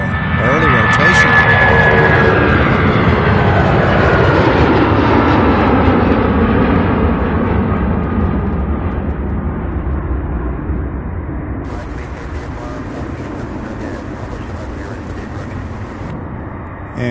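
A jet airliner takes off at UPS Worldport in Louisville, Kentucky, its loud roaring thrust sweeping past and slowly fading into the distance, with a person talking over it.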